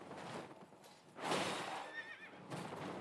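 A horse neighs in the video game Elden Ring, a faint, distant whinny in a few short bursts over a quiet ambient game backdrop.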